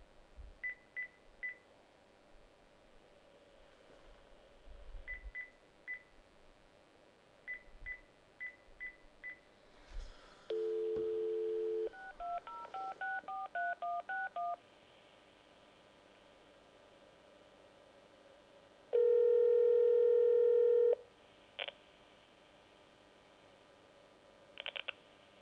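Telephone dialing: bursts of short keypad tones, then steady longer call-progress tones and a ringback pattern as a call is placed over the line, fairly clear with faint background hiss.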